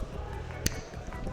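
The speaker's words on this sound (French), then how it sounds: "t'as plein d'autres manières de claquer des doigts" A single crisp finger snap at a Super Smash Bros. tournament grand final, one sharp click that stands out briefly over steady room noise.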